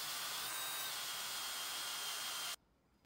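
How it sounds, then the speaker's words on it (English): Power drill boring a hole in a metal banjo part for a lathe restoration, a steady loud whirring grind held for about two and a half seconds before cutting off abruptly, with no talk. "here I am drilling out the third hole"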